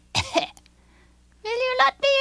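A voice imitates a wolf's delicate little cough in a spoken telling of Little Red Riding Hood, a short breathy cough near the start, followed after a pause by a brief burst of speech.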